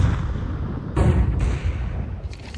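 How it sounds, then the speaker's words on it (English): Flashbang grenade going off in the video game Counter-Strike 2, a sudden burst at about one second followed by a second smaller pop, over steady game background noise. "Grenade out. Flashbang."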